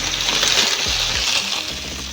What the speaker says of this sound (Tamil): பாஸ்தாவை தண்ணியில் போட்டுக்கலாம்.